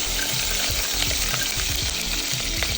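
Green chillies fry in hot oil with spices, giving a close, steady sizzle with crackling pops and the occasional scrape of stirring throughout, and no voices.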